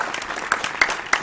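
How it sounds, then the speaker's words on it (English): Audience applause for school quiz contestants at a basic-school quiz competition, a brief burst of moderate clapping with a few sharper individual claps standing out. "Round of applause for them as well"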